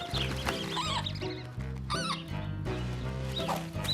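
Cartoon birds cluck and squawk in a French animated series, repeated bursts of fowl-like calls layered over a steady musical backing.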